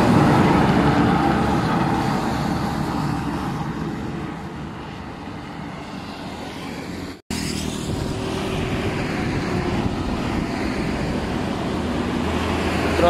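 A loaded tronton sand truck passes on a road in Indonesia, its engine a steady, loud rumble that holds throughout, broken once by a sharp cut midway before the roar resumes.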